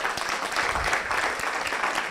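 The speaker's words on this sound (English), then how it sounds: "So give me a round of applause." Audience applause at a youth leaders awards ceremony in Jamaica, a steady dense clapping from a crowd filling the whole moment, fairly loud and continuous.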